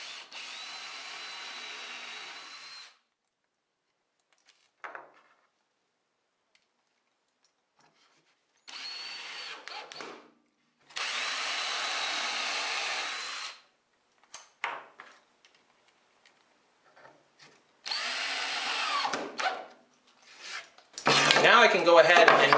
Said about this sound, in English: I can screw auxiliary fences to it wherever I want.